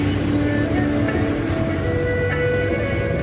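The Darjeeling toy train rumbles past close by on a mountain railway near Ghum, a steady, loud mechanical drone with a low hum running under it throughout.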